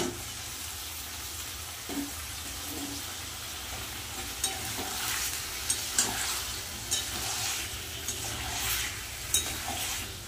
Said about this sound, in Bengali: মশলার মধ্যে দিয়ে দেবো ধুয়ে রাখা মাংস আর আলু।